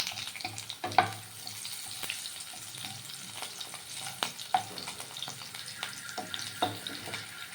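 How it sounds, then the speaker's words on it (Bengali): Potatoes fry in hot oil with a bay leaf added, giving a low steady sizzle broken by occasional spatula taps and stirring scrapes close by. "এখনই এর মধ্যেই দিয়ে দেবো আলু ভাজার সময়"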